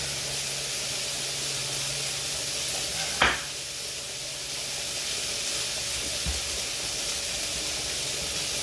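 Hamburger steaks sizzle in a skillet with a steady, moderately close frying hiss, broken by one brief louder spatter and no talking.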